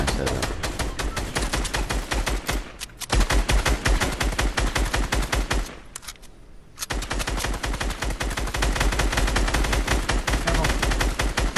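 Rapid automatic gunfire in a battle-royale video game crackles loud and continuous, with brief pauses around three and six seconds before the dense bursts resume.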